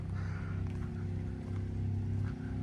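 A generator running under load inside a quiet generator box at a trailer, giving off a steady, muffled low hum with an even drone and no talking.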